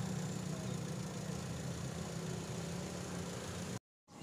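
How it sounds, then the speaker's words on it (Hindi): A car engine idles steadily at normal rpm while an engine-flush liquid circulates inside it, giving a constant low hum for nearly four seconds before cutting to a brief silence. "ये हम 10 मिनट तक इसको इंजन को स्टार्ट रखेंगे"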